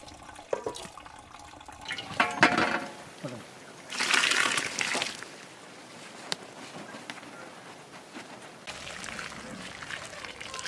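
Hot water poured into a biryani pot during outdoor village cooking, a broad splashing pour rising in bursts around the middle, with other cooking noises and movement around it.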